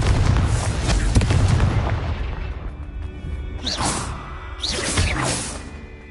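The Confringo fire spell exploding in Hogwarts Legacy: a heavy, rumbling boom that fades into two rising fiery whooshes, each ending in a crackling burst, all loud and close.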